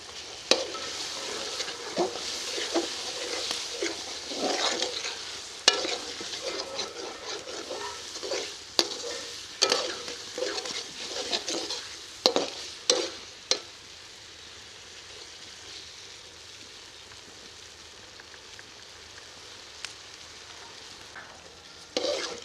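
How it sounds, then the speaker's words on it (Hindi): Green peas roasting in masala in a hot pan while a spoon stirs them, a continuous sizzle broken by repeated scraping strokes that thin out toward the end. "थोड़ी देर के लिए मटरों को भून लेंगे"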